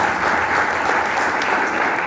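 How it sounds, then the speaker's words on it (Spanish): An audience at a political assembly applauds, dense and steady clapping from a crowd, loud and close, with no talk over it. "Un aplauso para él."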